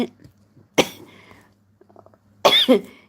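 Two sharp, loud coughs close by, one early and one near the end, with quiet murmuring between them.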